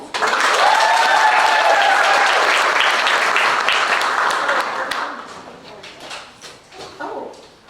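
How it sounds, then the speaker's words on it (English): An audience at a summer showcase claps for a presenter sharing her drawing, a loud, thick round of applause with a whistle or cheer early on, fading after about five seconds into sparse claps and quiet voices. "Round of applause"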